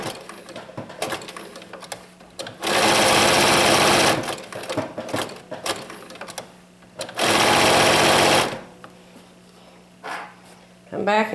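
A sewing machine satin-stitches around a curve on an owl appliqué in two loud sustained runs, with quieter stops and a person talking between bursts.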